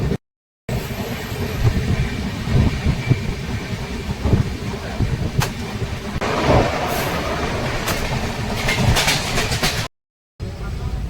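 A steady rumble of a train rolling along the tracks between Thiruvananthapuram and Kanyakumari, with rhythmic clatter and occasional rattles, heard from inside, continuous and moderately loud.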